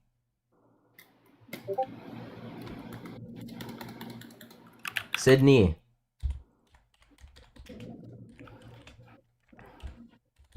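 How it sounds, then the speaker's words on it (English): Keys clatter fast and steadily on a computer keyboard during a Roblox game, nearby and fairly loud, with a burst of sharper clicks and bumps midway and lighter bursts of typing later. A person briefly says a name. "Is my keyboard insufferable, or is it alright?"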